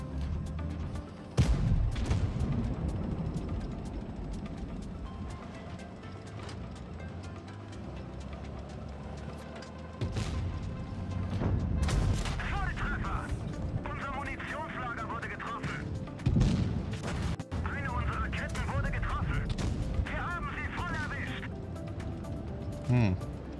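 Tank cannon fire in a video game comes as several loud booming blasts spread through the clip, with engine rumble and game effects between them and a player talking over the action.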